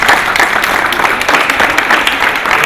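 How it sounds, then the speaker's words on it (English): Audience applause at an art exhibition, a dense burst of many hands clapping steadily, fairly close and alone. "Please applause for Svitlana Osobik as well."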